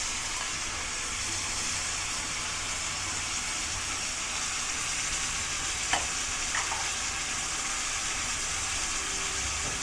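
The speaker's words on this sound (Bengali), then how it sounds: "বন্ধুরা দেখো, এখন দিয়ে দেবো পেঁয়াজ কুচি।" Chopped onion frying in a pan while chicken is cooked, a steady broad sizzle running throughout with a couple of brief clinks of stirring near the end.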